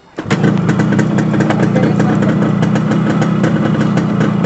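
A Yamaha RX 100 motorcycle engine catches after a short cranking burst and settles into a loud, close, throbbing two-stroke idle that runs steadily on.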